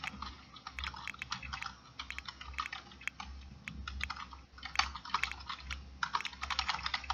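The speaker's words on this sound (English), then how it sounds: "I can't even type today." Rapid, uneven keystrokes clatter on a computer keyboard in fast bursts with brief pauses, close and clear against a low steady hum, with no voices.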